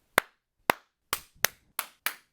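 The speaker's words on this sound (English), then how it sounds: "I made my own sound effect with clapping my own hands at different points of my hand" Six sharp hand claps struck close to a microphone at varied points of the palm, each a crisp isolated snap with a short tail, spaced unevenly with silence between them.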